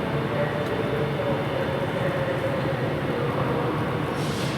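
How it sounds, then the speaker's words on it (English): A ScotRail class 385 electric train, unit 385029, pulling out of Glasgow Central station: a steady, loud rumble and whine of traction and wheels on rail, continuous throughout. "385029 on the service to Edinburgh Waverley, 11:03 departure."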